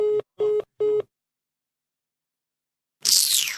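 After a telephone call cuts off, the line gives a busy signal: three short, evenly spaced beeps, then silence, then an abrupt burst of noise.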